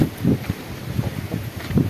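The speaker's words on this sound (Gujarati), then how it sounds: "ક્યારેક ક્યારેક આંસકાનો પવન આવે છે, ક્યારેક ક્યારેક જતો રહે છે" Gusty storm wind hits the microphone in short, uneven low thumping bursts, rising and easing every fraction of a second.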